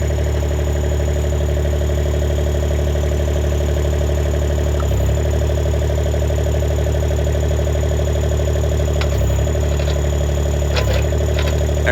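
Avant 528 compact loader fitted with an extra wide grapple, its engine running steadily and loud throughout, with brief knocks and clunks from the machine as it drives around on turf.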